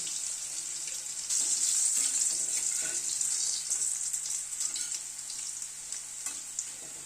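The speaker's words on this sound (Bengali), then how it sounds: "আলুটাকে ভেজে তুলে নিচ্ছি" Salted, pre-boiled potato pieces fry in hot oil, giving a dense, steady, hissing sizzle that swells after the first second and holds close and even throughout.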